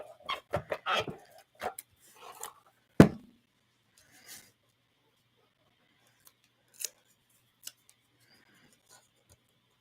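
Scissors snip through paper in a quick burst of close, crisp cuts, followed by one sharp louder snip and a few scattered single clicks spaced apart in a quiet room.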